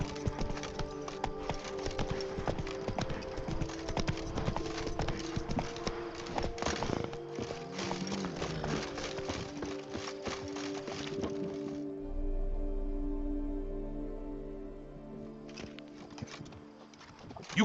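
Hooves of Geralt's horse Roach clip-clop steadily at a walking pace in The Witcher game, surrounded by ambient game sounds, with a low rumble rising near the end.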